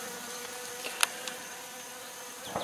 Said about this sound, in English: Oh, them bees is working it though.